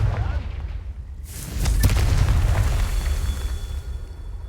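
Confringo, the fire-blast spell in Hogwarts Legacy, sets off a sudden burst and then a sustained rumbling roar that slowly fades, loud and close.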